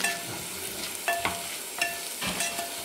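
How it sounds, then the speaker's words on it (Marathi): Spices and coriander powder frying in hot oil, a soft continuous sizzle punctuated by a few scraping stirs, close and low in level, without speech. "हे सगळं आपण आता टाकणार आहे। आणि छान आपण त्याला पण तळून घेऊ।"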